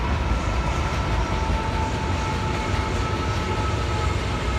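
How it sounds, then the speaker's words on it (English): A continuous loud rumbling roar of a train passing close by, steady throughout with a faint high whine over the noise. "Oh, hold on, there's the train."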